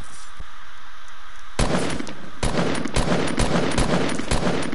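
Rapid automatic gunfire in a video game firefight at an enemy, beginning after a quiet stretch of about a second and a half, then loud, dense bursts of shots continuing close and sharp to the end.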